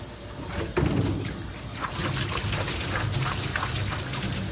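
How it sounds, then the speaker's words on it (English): Water sloshes and rinses inside a kegerator cleaning canister at a sink, a steady close-up swishing and gurgling with a heavier splash near the start and continuous running water after. "What we're going to do is give this canister a few rinses with water and then fill it back up with cold water so that we can flush out our lines."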